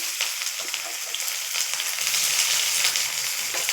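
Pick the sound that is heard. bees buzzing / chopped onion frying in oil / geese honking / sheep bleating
chopped onion frying in oil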